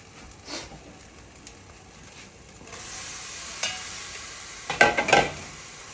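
Spaghetti being stirred and turned into a creamy spinach pasta salad, soft wet squelching and scraping that grows louder, with a few clattering bursts near the end.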